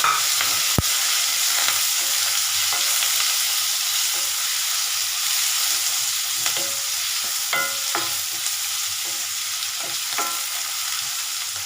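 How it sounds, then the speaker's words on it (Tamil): Onions, green chillies and curry leaves sautéing in a pan, a steady bright sizzle throughout with occasional soft stirring scrapes and clicks, close and continuous. "வெங்காயம் நல்லா வதங்கட்டும்."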